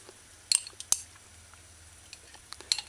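A metal tablespoon clinks against a jar and bowl while scooping chili bean sauce for a chicken broccoli stir-fry, a few sharp isolated taps and scrapes in a quiet kitchen.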